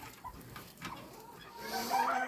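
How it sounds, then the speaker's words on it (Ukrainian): A broody hen gives a few short, throaty clucks close by, ending in a louder, agitated cackle. "Ой, яка страшна квочка."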